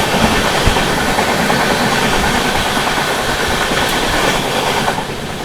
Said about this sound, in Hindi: बठिंडा बालूरघाट फरक्का एक्सप्रेस